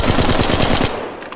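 Rapid automatic gunfire from a weapon in the mobile shooter Apex Legends Mobile, a loud, close burst of evenly spaced shots lasting under a second before cutting off into a faint tail.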